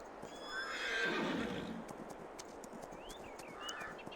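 A horse in the video game Farming Simulator 22 gives a loud, rising whinny that fades out, followed by a few lighter hoof clops and faint chirps in the background.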